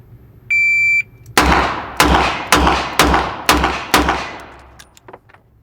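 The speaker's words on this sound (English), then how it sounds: "So I've got the shot timer, so let's do 12 shots and see how it goes." A shot-timer beep sounds once, then revolver shots ring out close and loud in a steady, evenly spaced string of about eight, each sharp crack trailing off before the next, with no talking.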